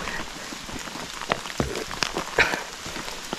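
Steady rain falls on a surface on a mountain climb to Panalaban, a dense patter with scattered louder drops tapping nearby.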